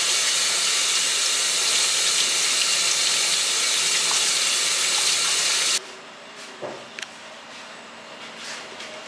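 Tap water runs steadily into a sink while strawberries are washed, a loud continuous rush that cuts off abruptly, leaving faint handling clatter.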